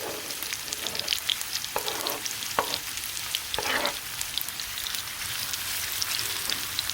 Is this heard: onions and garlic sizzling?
yes